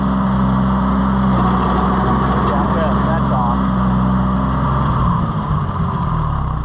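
A New Holland tractor engine running at a steady idle, loud and near, with a deep throbbing drone and a slight rise in pitch midway, while someone talks over it.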